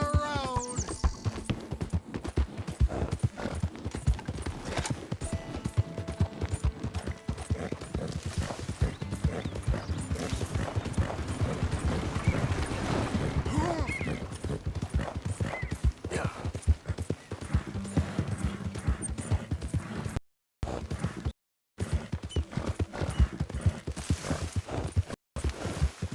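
A horse gallops in the video game Red Dead Redemption 2, its hooves beating a steady, rapid clip-clop close by with a whinny near the start and a few brief silent gaps.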